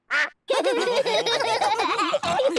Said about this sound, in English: Daddy Pig, did you know you've got a duck on your head?